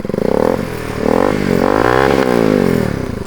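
Bajaj RS200 BS3 motorcycle with an Akrapovic full-system exhaust: a loud, close engine note rising and falling through several revs, with a raspy, burbling exhaust tone throughout.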